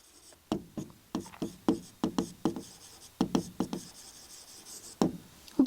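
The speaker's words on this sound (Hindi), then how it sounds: "तो हम इसे अच्छे से लिखते हैं यहाँ पे" A marker or chalk taps and scrapes across a board in a run of short, crisp strokes with brief pauses between them, close and clear.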